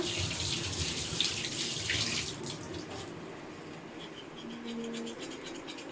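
Tap water runs as a baby shark fish is rinsed and cleaned, a steady splashing stream that eases off partway, then continues more softly with faint handling noises.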